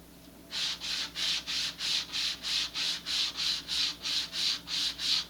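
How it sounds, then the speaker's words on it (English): A model rocket part for an Estes SpaceShipOne kit is sanded by hand: about fourteen steady, even back-and-forth strokes in a brisk rhythm, close and fairly loud, with no talking. "I'll just sand this again a little bit by hand."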